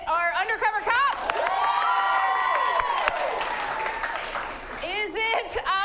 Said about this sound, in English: clap the most for the one you want to see